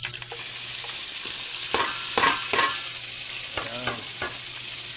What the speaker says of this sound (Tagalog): prito muna natin yung doradong isda bago natin iligay sa sigang